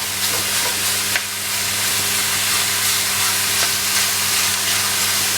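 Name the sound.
mince sizzling in pan, broken up with spoon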